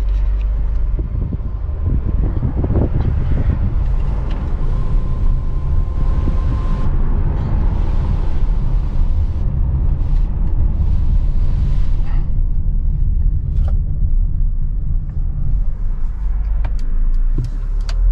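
A 2021 Mercedes GLB 250 4MATIC compact SUV on the move, a loud continuous low engine and road rumble with wind noise, steady throughout with no talking.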